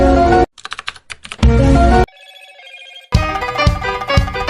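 A loud phone ringtone sounds for an incoming call, a bright repeating melodic tune in bursts with a short quieter tonal passage between them, close and alone.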